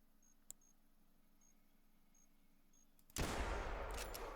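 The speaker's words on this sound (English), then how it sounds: "I'm going to shoot him." Rifle shot at a deer in the hunting game theHunter Classic: near silence, then a single sudden loud blast with a broad rolling tail that lasts to the end.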